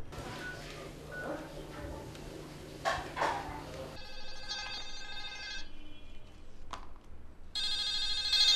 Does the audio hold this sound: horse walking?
no